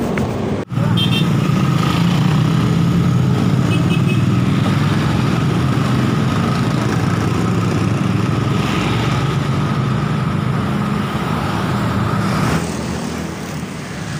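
A motorcycle engine runs loudly close by and holds a steady drone for several seconds, then fades slightly near the end as it moves off.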